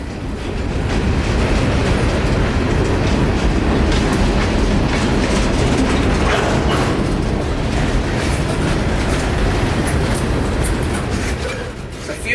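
A freight train rolls past close by on the Palmetto Subdivision, a loud, steady roar of wheels and rattling cars with rhythmic clickety-clack and occasional faint squeals across the whole pass, easing slightly at the end.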